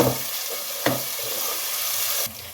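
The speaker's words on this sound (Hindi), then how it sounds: "अब टमाटर को भी इसके अंदर मिक्स करें।" Sliced tomato is stirred into garlic and ginger frying in a pan: a steady sizzle with a few scraping stirs of a spoon against the metal, close and unaccompanied.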